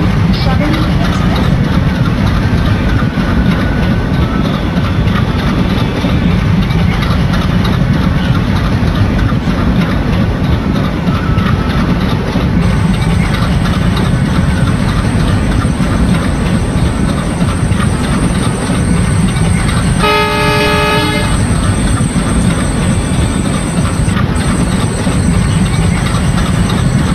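Train engine rumbling steadily in a simulator game on a Southern Railways route, with a loud continuous low drone and a brief horn tone near the end.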